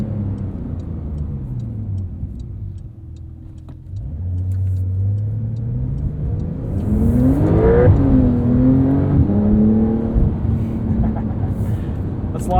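A 2022 Porsche 911 Carrera with PDK transmission revs and accelerates up to redline in manual shift mode, its engine note climbing in pitch and holding loud and close, with a brief shift dip before rising again.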